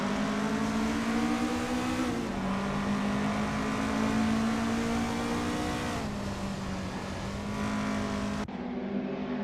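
Race cars in Assetto Corsa scream around Circuit Charade in a close pack, engines droning loud and steady with pitch shifts at each gear change and a brief tire squeal, no voices over them.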